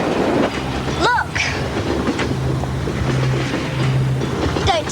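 A passing train rumbles and clatters close by in a steady, loud wash, with a low horn-like tone holding through the middle and squealing metallic notes rising over it.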